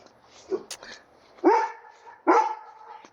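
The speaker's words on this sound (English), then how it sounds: "here's some barking." A dog gives two sharp, loud barks spaced about a second apart, preceded by a few softer yips and whines.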